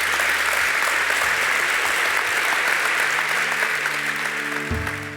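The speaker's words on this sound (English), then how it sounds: "I think that deserves an applause" Applause from an audience at a provincial entrepreneurship talk, a dense, steady wash of many hands clapping loudly and evenly for several seconds, tapering slightly at the end.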